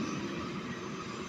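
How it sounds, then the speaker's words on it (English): A helicopter flying nearby, heard as a steady, broad, droning rumble with a constant whine, moderately loud and unbroken, with no talking over it. "It's a helicopter in the background."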